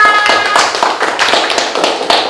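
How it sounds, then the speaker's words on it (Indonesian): Classroom audience applauding, a dense burst of many hands clapping close by that holds steadily for a couple of seconds, with no talking over it. "Tepuk tangannya mana?"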